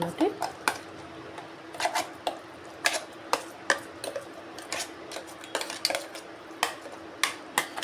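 Repeated sharp clinks of a spoon scraping and tapping against a bowl while mixing ajwain leaf chutney, irregular rhythm, close by.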